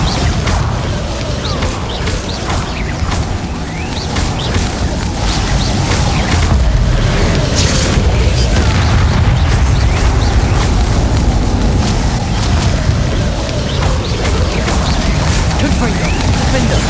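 In Hogwarts Legacy combat, Confringo and Bombarda spells explode repeatedly as dense booms and crashes over continuous game noise, with a voice shouting spell names throughout.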